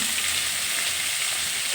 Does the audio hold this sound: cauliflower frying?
yes